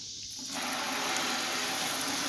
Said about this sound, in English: Let's hose her off here real quick.